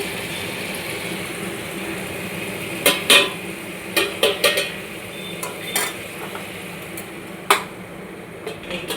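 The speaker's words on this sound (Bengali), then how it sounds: "এটা ফুটছে" Food boils in a pot on a home kitchen stove, a steady bubbling hiss running throughout, broken by a few sharp utensil clinks and scrapes.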